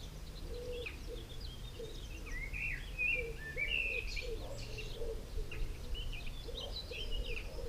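Birds sing outdoors in a small village, with scattered chirps and trills, some nearer and some distant, over a steady bed of ambient noise and low cooing.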